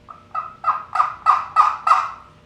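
A wild turkey gobbles in the woods, a fast series of about seven rattling bursts that grow louder, loud and fairly close, with nothing else audible.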